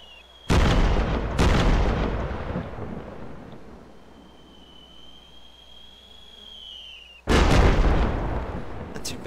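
Artillery rounds explode in the WWII shooter Arma 2: Invasion 1944, two heavy booms close together near the start and a third after a quiet gap, each with a long rumbling decay over faint background hiss.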